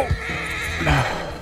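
A horse in Red Dead Redemption 2 gives a short, close whinny with a couple of hoof thuds, brief and loud against quiet game ambience.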